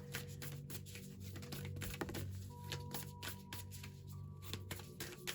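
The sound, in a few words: shuffling tarot cards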